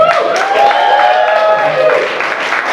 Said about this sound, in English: we need pretty much round of applause or cheers or just, shout